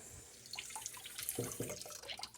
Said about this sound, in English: I'll turn that water way down, because I'm wasting a lot of water.